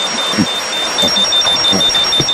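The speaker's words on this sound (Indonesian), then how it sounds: "Alarm kali ini tidak salah lagi." Doraemon's gadget alarm ringing in steady repeated electronic beeps, close and clear, with faint background sound beneath.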